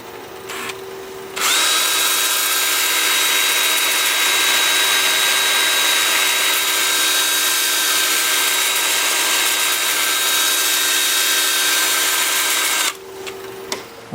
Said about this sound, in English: I'm going to start sanding with my 2-inch disc, starting at 80 grit and working up through 400.